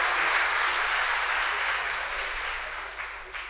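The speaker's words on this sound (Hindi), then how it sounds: "आप लोग एक ताली बजा के उनका खैर मकदम करें" An audience at an award function and book launch ceremony claps in welcome: a steady wash of applause from many hands, moderately distant, easing slightly toward the end.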